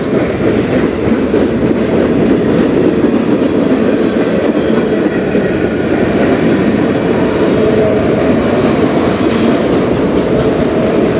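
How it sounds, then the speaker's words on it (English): A freight train passes close on the Strathroy subdivision near Sarnia, a loud continuous rumble of wagons with rhythmic clickety-clack of wheels over rail joints and no talk. "We got a train over here"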